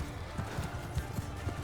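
Horses galloping in a video game cavalry battle between Vlandia and Khuzait armies, with a steady clip-clop of hooves thudding at a moderate distance. A faint voice runs underneath.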